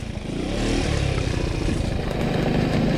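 A tuned 70cc sport scooter engine, set up for enduro riding, runs close by with a rough, steady buzzing clatter that swells slightly and holds throughout.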